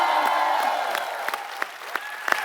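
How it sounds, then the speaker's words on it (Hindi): A studio audience at a Hindi comedy talk show applauds as guests walk onto the stage, a dense, loud wash of clapping with faint cheers running throughout. "जोरदार तालियों के बीच बुलाना चाहूंगा गीता और बबीता फोगाट को।"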